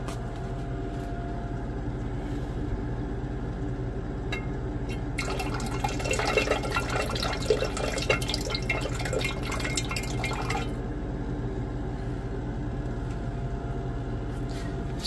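Liquid drains steadily from a copper cell slime container, a continuous trickle, with a burst of louder splashing and pouring in the middle before it settles back to a quieter flow.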